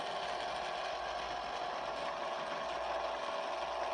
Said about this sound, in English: So basically, you release the brake, and while you're releasing the brake, you can see the rotator is turning.